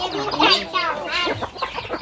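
Chickens clucking in a family farm yard, several birds making short overlapping clucks and rising calls close by, busy and fairly loud with no other sounds standing out.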